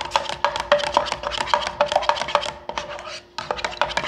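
A spoon briskly mixes Redcon 1 MRE Lite banana nut bread in its container, making rapid, close clicking and scraping strokes in a quick rhythm, with one brief pause before the stirring resumes.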